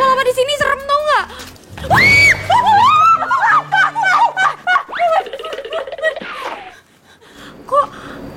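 A woman screams loudly in a tense scene from an Indonesian TV drama, her shrieks and gasps rising sharply, mixed with excited vocal outbursts and fragments of talk.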